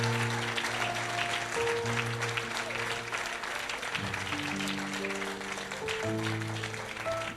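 A church congregation claps steadily, broad sustained applause filling the room at an even level while music keeps playing underneath.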